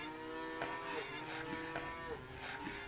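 Cows moo in the farming video game Lumberjack's Dynasty, with several low, drawn-out moos repeating over a quiet ambient backdrop, faint and somewhat distant.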